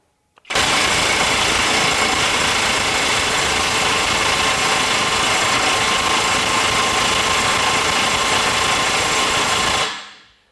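A Kobalt XTR 24V high torque impact wrench hammering on a stubborn bolt, running in one sustained, loud, even burst of about nine seconds that starts and stops abruptly, heard close with no speech.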